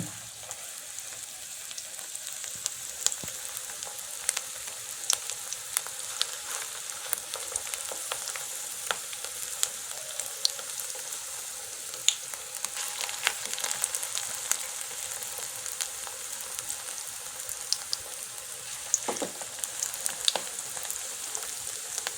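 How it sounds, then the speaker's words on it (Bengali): Semai and egg balls fry in hot oil with a steady, close sizzle and dense crackling pops that continue throughout, with no talking. "পলি এখন নাড়ুগুলোকে তেলে ভেজে নিচ্ছে"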